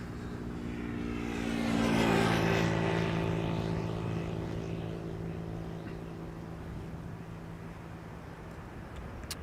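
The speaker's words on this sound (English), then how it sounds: "KLM Flight 1502, arriving from Madrid, 737-800." A KLM Boeing 737-800 airliner arriving at Schiphol's Polderbaan on a warm day passes close and loud, its jet roar swelling to a peak then fading into a steady distant rumble, with no talking.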